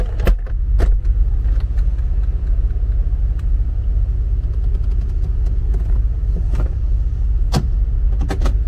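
A Mercedes SL R129 convertible lowers its power windows as the roof opening begins, a steady motor whir over a low rumble with scattered clicks and a few sharp mechanical ticks, close up and continuous.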